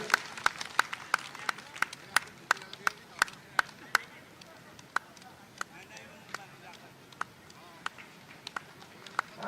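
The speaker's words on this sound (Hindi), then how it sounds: "आप लोग तालियां बजाएं" Scattered hand claps from an audience at a shoemakers' community gathering in Bhopal during a cheque handout, sharp individual claps in a loose irregular rhythm, thinning out midway, with a voice talking over a faint hall background.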